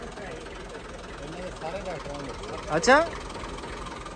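An older-model Massey Ferguson 240 tractor engine idles with a low, steady rumble in the background while someone speaks briefly over it.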